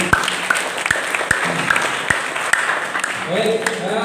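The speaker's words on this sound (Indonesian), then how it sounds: "Tepuk tangan sekali lagi untuk Ibu Nuri." Students in a classroom clap for their teacher, a light scattered round of applause with sharp individual claps roughly every half second, and a voice speaking near the end.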